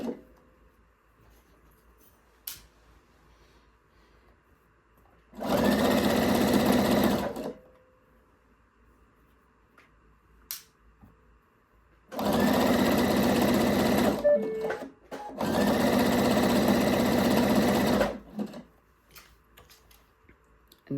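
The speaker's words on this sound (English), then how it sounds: "And then I'm going to sew, and be careful not to sew through the pins that you placed in your shorts." A sewing machine stitches a waistband onto mesh shorts. It runs in three loud, steady bursts of a few seconds each, with quiet pauses and faint clicks between them and no talking.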